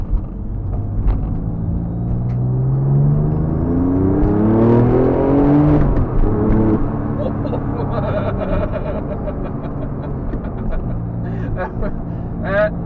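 A heavily modified two-wheel-drive twin-turbo Porsche 911 with about 600 rear-wheel horsepower accelerates on a road, its engine note climbing steeply in pitch through a long pull, then easing off at a shift. The sound is loud and close inside the car, with people talking over it.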